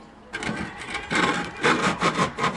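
A scraper is dragged flat across a fresh patch on a wall in short rasping strokes, several passes in a row, close and moderately loud with no talking.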